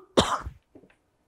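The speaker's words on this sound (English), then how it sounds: "I'm going to cough." A single close, sharp cough followed by a brief, softer throat sound, then silence.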